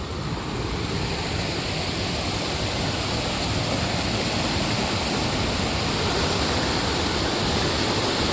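A fast-flowing mountain torrent and waterfall at Sahastradhara, Uttarakhand, gives a loud, steady, close roar of rushing water, unbroken and with no voices.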